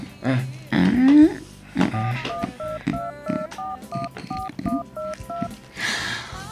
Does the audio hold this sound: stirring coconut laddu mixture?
no